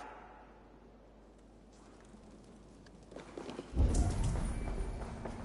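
Horse hooves clip-clop in Assassin's Creed Valhalla, a faint steady walking patter beneath quiet ambience that swells into louder, busier movement in the last two seconds.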